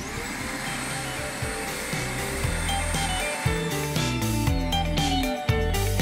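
A Bush vacuum cleaner runs continuously with a steady motor whine and airflow roar, its pitch wavering and shifting slightly as it works.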